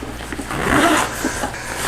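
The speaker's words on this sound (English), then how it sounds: "This bag, zip on the inside, zip on the outside." Zipper on a bag being pulled shut, one continuous raspy zip lasting about a second, loud and close with slight scraping texture.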